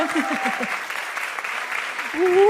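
Audience applause at a Portuguese-language journalism and literature panel, a steady wash of many hands clapping that holds evenly for the whole stretch, with a voice briefly heard under it at the start and again near the end.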